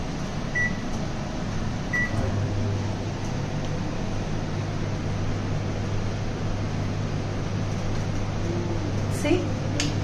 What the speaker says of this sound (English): I'm going to actually microwave it